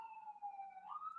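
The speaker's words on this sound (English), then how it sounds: "And I apologize for the sirens." A police siren wails out on a city street, a single faint, distant tone holding steady and then sliding upward near the end.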